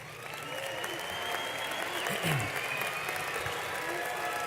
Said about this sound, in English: Let's give these students a big round of applause.